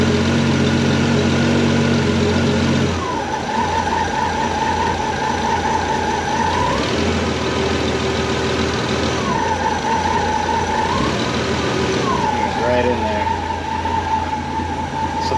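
A Chevy engine with a one-wire alternator idling with the headlights on, a steady loud drone with a whining tone that rises and falls as the load shifts.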